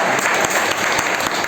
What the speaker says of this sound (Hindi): उसके लिए एक जोरदार ताली।